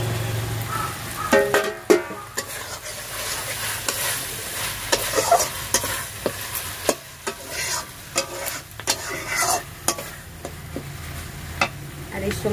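Chopped tomatoes frying with spices in a pan, a soft steady sizzle broken by repeated scraping and tapping strokes of a spoon stirring, fairly quiet and close.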